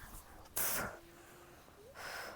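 A person doing seated exercise draws a breath and blows it out in one sharp, breathy rush, followed by a quieter pause and another soft exhale, close to the microphone.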